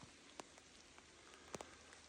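Steady rain falls with a soft hiss, punctuated by a few distinct drops tapping nearby; quiet and calm, with no voices.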